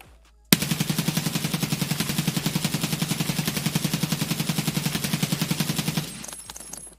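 Scar L assault rifle in the shooter game Escape from Tarkov firing one long, rapid full-auto burst of evenly spaced loud shots for about five and a half seconds, then a brief echoing tail after the trigger is released.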